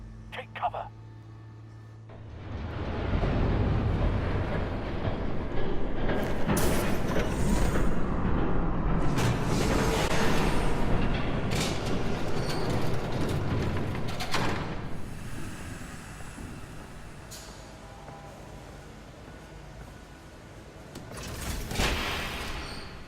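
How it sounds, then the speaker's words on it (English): A train thunders past in the Telltale Batman video game, a loud, broad rumble that swells after a quiet start, holds for around twelve seconds and then fades away. "There's a train coming."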